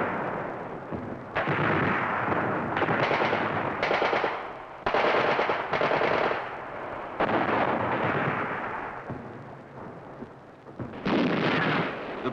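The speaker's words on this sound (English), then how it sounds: "the firepower of Hussein's forces, the artillery and tanks, took their toll" Artillery and tank fire during the battle for Amman in Jordan, with heavy, repeated booming blasts and rattling bursts in uneven volleys and short pauses between them, loud and close throughout.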